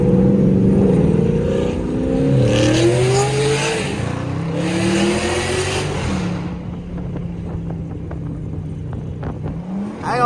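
A stage 4 cammed Chevy SS revs and accelerates up close while driving, its choppy idle breaking into loud rising pulls, settling into a lumpy rumble with a final rev at the end; no talking.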